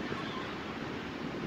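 Waves and wind at a beach make a steady, broad rushing roar that stays constant throughout, close and dense, with no voices.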